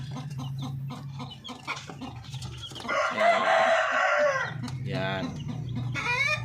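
Darag chickens cluck steadily close by while a rooster lets out a long, loud crow in the middle, then the clucking carries on.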